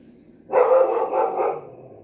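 A dog barks in a quick burst of several loud, close barks lasting about a second, then stops, leaving quiet room tone.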